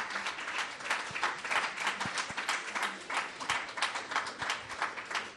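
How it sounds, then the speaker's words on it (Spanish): A church congregation breaks into steady, dense applause during a Sunday service, many hands clapping together at close range for several seconds, with scattered louder claps and faint voices mixed into the crowd noise. "Denle un aplauso al Señor,"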